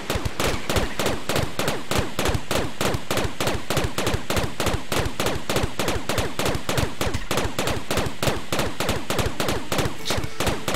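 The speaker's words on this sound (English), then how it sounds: "get that practice shooting" Colonists practise shooting with their guns in the RimWorld colony game. Loud, rapid, evenly spaced gunshots repeat without a break for the whole stretch, a steady mechanical firing rhythm with no talking over it.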